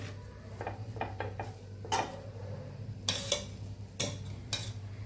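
Millet paratha cooking on a griddle, flipped and brushed with ghee: scattered light clinks and scrapes of a spatula against the hot pan over a steady low hum, with a few sharper clatters near the end.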